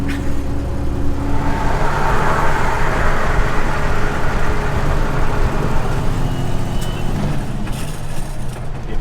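A semi truck engine drones loudly and steadily from inside the cab while shifting from eighth to ninth gear with the clutch, a continuous rumbling roar without a break.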